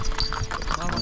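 Horse hooves clip-clopping during a horse ride in Kashmir, a quick steady beat close by, partly masked by people talking over it.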